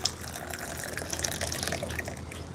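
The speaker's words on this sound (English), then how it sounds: "just give it kind of a longer rinse just to let it kind of saturate and penetrate the leaves" Water poured over a Liu Bao tea brick for a rinse, a soft, fairly faint gushing pour with light splashing and drips, steady and brief, no talk.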